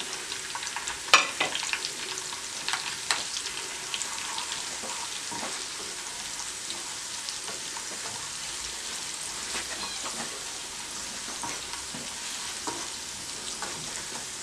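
Spices for a tadka for palak chicken kadhi fry in hot oil with a steady, crackling sizzle, broken by a few sharp pops near the start.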